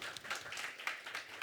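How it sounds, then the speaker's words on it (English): An audience at a global health diplomacy forum claps to welcome a speaker, a brief dense patter of many hands at moderate distance. "Please join me in giving a big round of applause"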